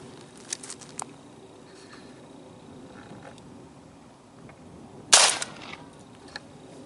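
A single loud shotgun blast from a Herter's 3-inch triple-aught buckshot load fired at a paper target outdoors, sharp and close, preceded by faint clicks and handling sounds.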